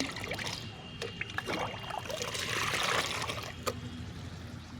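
Water is poured onto a bougainvillea plant in a garden, giving a faint, soft trickle and splash that rises briefly, at low level with no talking.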